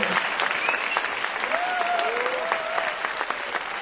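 A student conference audience at a church gathering claps in encouragement, steady close applause with scattered voices and whoops rising over it.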